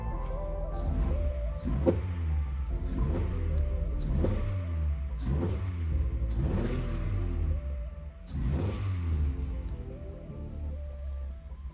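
A VW Mk1 car fitted with a performance cam, jacked up in a garage, revs repeatedly past 2000 RPM, giving about six rising and falling engine surges over a steady idle, close and fairly loud.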